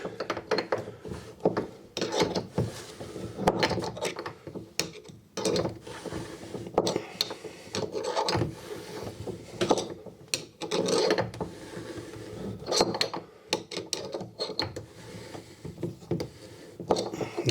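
A drain spanner turning a bathtub drain fitting tight, heard as close, irregular metallic ratcheting, scraping and rubbing strokes that come in bursts, with a voice speaking now and then.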